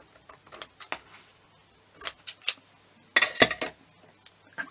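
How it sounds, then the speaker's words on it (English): Scissors snip and trim modern fabric for a textured craft gift tag, giving a few sharp, close clicks in irregular bursts, alone with no talk. "I'm just going to trim this off a little bit."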